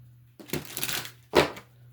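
Tarot cards being shuffled close by: two quick papery riffles, the first longer and the second a short sharp burst, over a faint steady hum.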